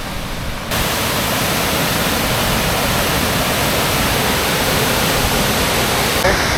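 Water pouring over the waterfall below Kuppanatham dam near Tiruvannamalai, a loud steady rushing roar that swells in after a brief quieter start and continues unbroken.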